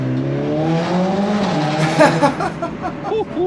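A Mercedes-AMG A 45 S engine revs up, climbing in pitch, then barks and crackles through several sharp throttle blips, loud and close.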